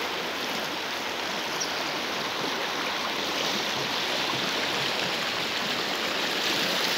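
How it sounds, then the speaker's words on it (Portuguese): The clean-water Itapicuru river flows with a steady, dense rushing babble, even and unbroken throughout, close by and with no voices. "mostrando para vocês aí o rio Itapicuru"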